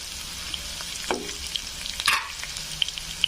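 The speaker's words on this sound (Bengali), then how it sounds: "কালো জিরে দিয়ে দিব, সেরা কাঁচা লঙ্কা দিয়ে দিব" Nigella seeds and green chilies frying in hot oil for a banana stem masala fry, with a low constant sizzle broken by a couple of sharp crackles and spoon scrapes, close up with no talk.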